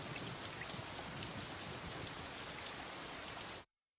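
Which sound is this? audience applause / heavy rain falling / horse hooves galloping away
heavy rain falling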